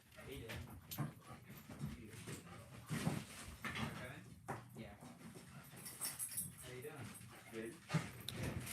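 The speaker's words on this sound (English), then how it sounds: "I need them to stop barking, bud." Dogs bark and whimper indoors in bursts, rather faint, under people talking throughout.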